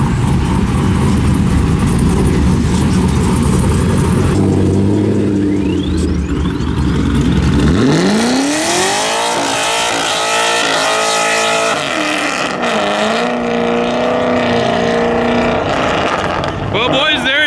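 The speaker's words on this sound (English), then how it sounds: "But now we got the wide body C6 Grand Sport here from Super Vents." Wide-body C6 Corvette Grand Sport driving past at a car show-off, its engine rising in pitch as it accelerates and passes close by, loud throughout, with people talking over it.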